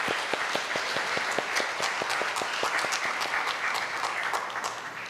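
A church congregation applauds during a Sunday worship service: an even, sustained wash of many hands clapping at moderate distance, with some crisp individual claps on top, steady throughout and no voices.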